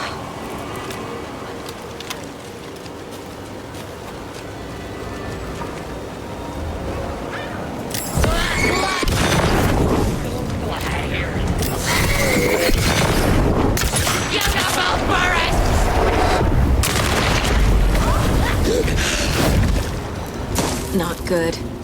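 Gunfire from combat in the video game Alan Wake 2: a burst of repeated shots and heavy booms breaks out partway through and continues loudly, with someone talking over it.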